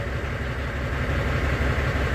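A Volvo semi truck engine idles in a steady, loud low-pitched rumble with an even pulsing beat throughout, close by and with no voices.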